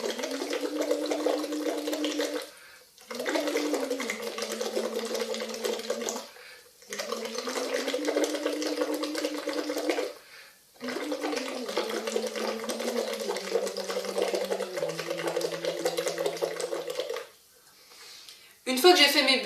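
A singer practising lip trills on sustained, gliding pitches in a vocal exercise, with buzzing bubbly phrases of about three seconds each separated by short breaths, fairly close and steady.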